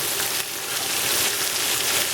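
Diced celery and other vegetables for vegan brown Spanish rice hitting a hot pan, a loud, dense, continuous sizzle and crackle close by.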